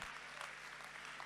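Brief burst of audience applause at a carol singing competition closing ceremony, crowd clapping densely and steadily for a moment, fairly faint.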